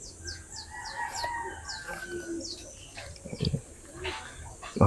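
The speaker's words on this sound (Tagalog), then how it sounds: "Bali hen po ito." A hen, apparently a racing or homing bird, clucks in short, choppy bursts close by, amid other chicken calls and chirps, with scattered background noise.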